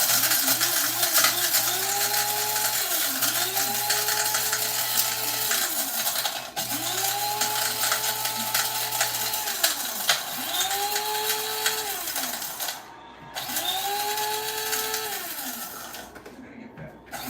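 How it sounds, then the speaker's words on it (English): An electric spice grinder bought from Temu, used for coffee, spices and chiles, whirs in repeated motor pulses whose pitch swells and falls, loud and close, with a faint background hum. "It's my spice grinder."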